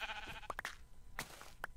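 Several short, faint Minecraft sheep bleats spaced irregularly over a soft background hum, with no speech.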